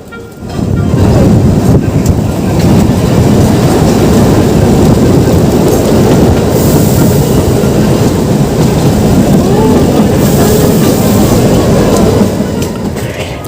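The Shimla–Kalka toy train, a narrow-gauge mountain railway, runs on its rails with a steady, loud rolling rumble and rattling clatter, mixed with wind noise and no talk.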